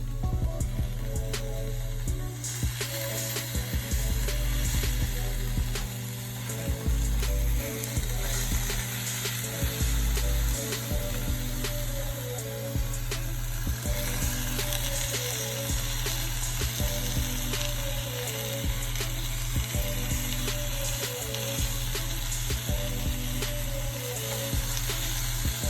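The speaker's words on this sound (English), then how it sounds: "And as soon as our cheese is melted, then we'll just go ahead and flip our tortillas." Birria-dipped tortillas topped with melting cheese sizzle steadily in a hot pan, a dense, continuous frying crackle over a low hum with faint clinks of a utensil, no voices.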